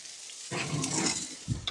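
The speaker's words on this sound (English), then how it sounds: "You can kind of see the brown sizzle there, right?" Salmon frying in a hot pan gives a steady, close sizzle with a brief stirring or scraping burst near the end, and nobody speaks.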